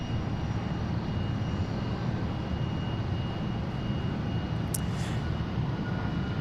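Blue Angels jet aircraft flying over Boeing Field in Seattle, heard from inside the fenceline as a loud, steady broadband roar that persists through the whole clip with no talking.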